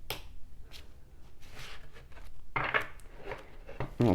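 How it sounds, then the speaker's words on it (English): Oracle and tarot cards are shuffled up close, making quick papery riffles and sharp snaps in irregular bursts, with a louder flurry toward the end. "Let's do some shuffling."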